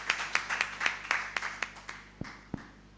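Scattered, uneven claps from an audience at an association's 25th anniversary celebration in Uganda, a dozen or so sharp hand slaps spaced irregularly and thinning out toward the end over a quiet room.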